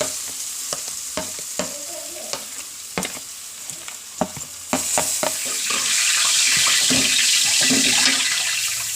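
Ground coconut paste sautéing with cassava in a pan for a Kerala kappa puzhukku, with sharp spoon scrapes and stirring knocks over a sizzle that swells louder and steadier in the second half.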